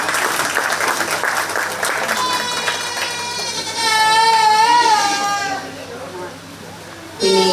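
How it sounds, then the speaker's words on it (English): Applause at a county fair 4-H goat show, a broad patter of clapping that continues while goats bleat loudly and repeatedly over it, with a voice briefly audible near the end. "Let's go ahead and give them one more round of applause."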